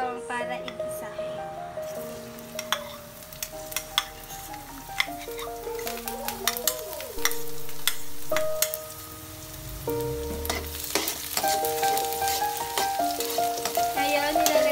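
Garlic sautés in hot oil in a heated pan, a continuous crackling sizzle with occasional sharp spatter clicks, running under steady background music for the whole stretch.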